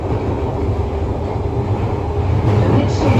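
A London Underground train at Acton Town station gives off a loud, steady rumble that holds unbroken for a few seconds, with a slight rise toward the end.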